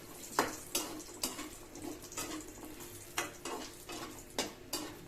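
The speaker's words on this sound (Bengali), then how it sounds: "বড়িগুলোকে আগে ভেজে নিই। বড়িগুলোকে ভেজে নিয়ে আমি তুলে নেব বড়িগুলোকে।" Lentil dumplings (bori) fry in hot oil with a steady soft sizzle, broken by a series of sharp stirring scrapes and clinks roughly every half second, close and fairly quiet, with no voices.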